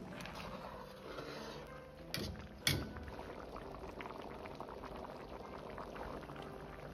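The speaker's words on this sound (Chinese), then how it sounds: "倒完后煮至20秒钟左右，再用勺子轻轻的推动几下，这样就可以了" Egg drop soup for a gedatang-style dumpling broth bubbles steadily in a pot, with a soft, even simmer broken by two quick sharp clinks partway through.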